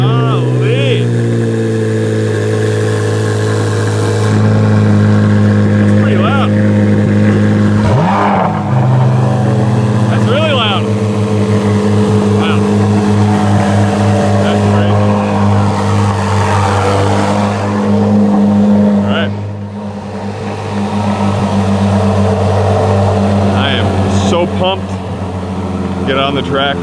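Chevrolet C8 Corvette Z06 engines rolling onto a race track, a loud droning rumble with rising and falling revs as the cars pull out, with people talking over it.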